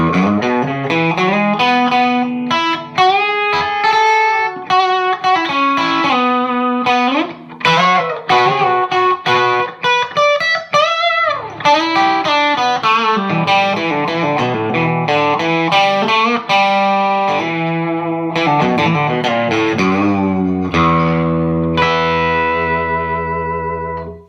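1964 Gretsch Country Gentleman electric guitar played through a gritty distorted tone with effects, continuous loud chords and picked notes, close and alone with no talk.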